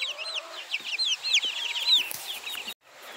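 Hens cluck and chatter together inside a chicken coop converted from a deer blind, a busy overlapping run of calls at close range that drops off abruptly near the end.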